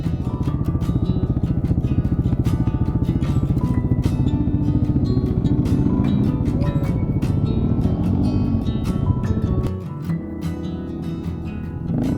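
A trail motorcycle, a 790, rumbles loudly through soft, untracked desert sand in Morocco. The engine note pulses and surges close by for several seconds, then drops back before picking up again.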